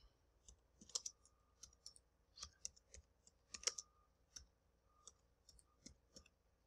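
Keys clack on a computer keyboard in short, irregular bursts of quiet, close taps separated by brief pauses.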